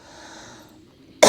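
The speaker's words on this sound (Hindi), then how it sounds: "खांसी उठेगी, थोड़ा खांस करके कफ को छुड़ाएं" A single sharp cough bursts out at the end of a quiet breathing exercise, clearing phlegm from the throat, loud and close after near-silence.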